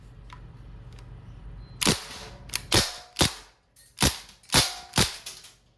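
A DPMS Panther SBR CO2-powered airgun rifle fires steel BBs on semi-automatic, giving about eight sharp, snappy shots at irregular spacing over a quiet background, with no talking.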